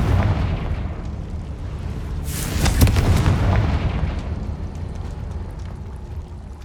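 A fiery blast spell goes off in Hogwarts Legacy, a loud, close boom with a rumbling low body and a crackling burst at its peak, then a slowly fading roar.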